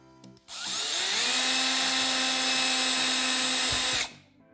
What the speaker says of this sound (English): So I'm just going to drill it right there.